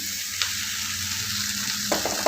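Poha stirred into sautéed onions in a pan, a steady soft sizzle with faint scraping of the spoon, close and continuous with a couple of light clinks near the end.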